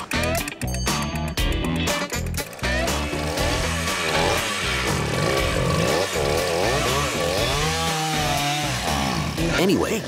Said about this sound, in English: in Cuba, with a chainsaw engine, they make mopeds.